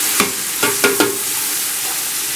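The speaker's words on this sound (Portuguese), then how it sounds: "agora estamos fritando a cebola" Chopped onion and garlic, with a little green onion mixed in, fry in a pan for a pie filling, a loud steady sizzle broken by a few sharp stirring scrapes, close and without talk.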